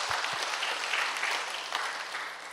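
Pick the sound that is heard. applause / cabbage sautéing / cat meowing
applause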